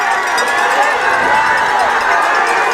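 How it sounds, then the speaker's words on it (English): Visiting fans in the stands at a high school varsity football game make a steady, loud wash of crowd noise and cheering throughout, with no clear breaks. "this defense is imploring the visiting crowd to try to make some noise here"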